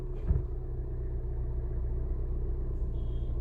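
Car engine cranking to life after washing, checked for an overheating problem: a brief starter burst at the start, then a steady low idling rumble that runs on alone.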